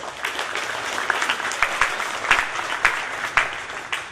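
Audience applause for the coaches at a high school athletics signing day in a gym, a sustained wash of clapping with individual sharp claps standing out near the listener.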